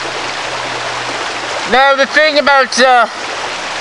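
Creek water runs through the woods in a steady, close rushing hiss that lasts throughout, with someone speaking briefly over it partway through.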